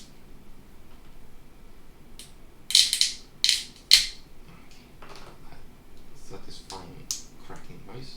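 Supports snapped off a resin 3D-printed statuette give a few sharp, bright cracks close by, three loud snaps clustered in the middle followed by smaller clicks, with a brief spoken word at the start.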